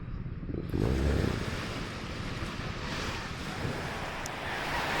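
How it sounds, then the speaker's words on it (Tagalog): Ocean waves roll and crash continuously at sunrise in Matnog, Sorsogon, a broad rushing surf with wind buffeting the microphone, loud and close throughout. "Ito lang yung dagat."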